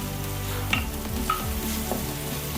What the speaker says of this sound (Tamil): உப்பு போட்டு நல்லா வதக்கிக்கோங்க.